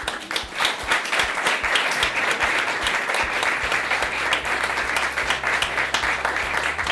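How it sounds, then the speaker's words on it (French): Sustained audience applause fills a hall at a French workplace talk event, dense steady clapping from a sizeable crowd with no voices, holding evenly throughout and close to the microphone. "Donc je voudrais qu'on applaudisse tout le monde."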